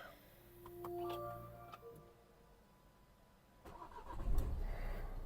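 A 2017 Renault Megane 4 with a 1.5 dCi diesel engine sits quietly with faint electronic ticks and chimes, then its start-stop system fires the engine back up into a low, rumbling idle.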